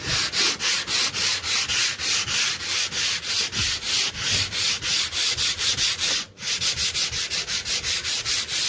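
Filler on a living room wall being sanded by hand with steady back-and-forth rubbing strokes, loud and close, in a fast even rhythm with one short pause.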